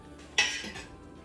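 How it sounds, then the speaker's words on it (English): A utensil clinks and scrapes once against a cooking pot as food is stirred, a short close metallic knock followed by a softer drag. "I'm going to give it a stir. A nice stir."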